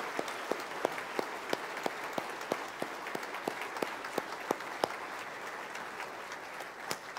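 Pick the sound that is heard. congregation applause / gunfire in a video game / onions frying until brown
congregation applause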